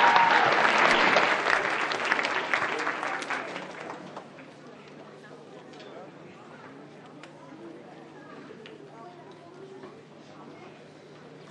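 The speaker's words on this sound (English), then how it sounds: "Let's give them a big round of applause." Audience applause at a school concert for a 4th grade choir, loud and steady clapping for about four seconds that then fades into quiet room murmur and scattered small sounds.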